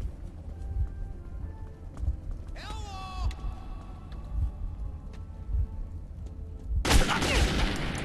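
Enemy gunfire crackles in Metro 2033 as a burst of rapid shots beneath someone talking, ending in a loud, dense volley at the close.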